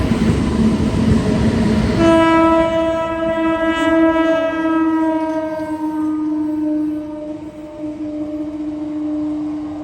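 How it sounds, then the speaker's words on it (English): A single WAG9 electric locomotive of Indian Railways crosses a Southern Railway level crossing, sounding a long, steady horn tone loud and close over rumbling rail noise with no talk. "Single locomotive WAG9 passing through Southern Railway crossing."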